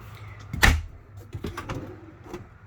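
Inside a 2019 Airstream Flying Cloud 20FB travel trailer, a drawer is pulled open with a sharp knock followed by light sliding rattles and clicks, close and fairly quiet, with no talking.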